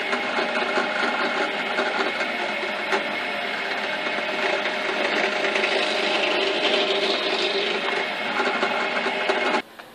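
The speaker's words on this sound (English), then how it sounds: "we're going to drill a hole in the end of the trigger" A drill bores a hole into the end of a small wooden crossbow trigger, a continuous whirring motor tone with a grinding edge that holds steady, up close and alone, until it cuts off near the end.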